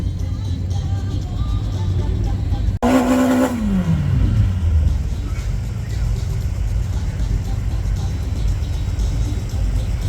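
An Audi S3 launches from the line in a drag race, its engine roaring loud and close after a sharp cut, the pitch falling as it pulls away, followed by a steady rumble of other cars.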